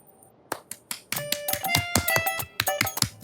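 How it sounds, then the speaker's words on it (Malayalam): Sharp hand claps, a single clap and then a rapid irregular burst of claps and snaps, close and fairly loud in a Malayalam comedy scene, with no talking. "എന്തിനാ കൈയടിച്ച്?"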